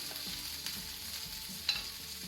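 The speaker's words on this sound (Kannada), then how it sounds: "ಆನಿಯನ್ ಸರಿ ಫ್ರೈ ಆಗಲಿ. ಫ್ಲೇಮ್ ಮೀಡಿಯಂ ಇಟ್ಕೊಳ್ಳಿ." Onions fry in a pan over medium flame, a soft, even sizzle with occasional light clicks of a stirring spoon, heard alone and fairly quiet.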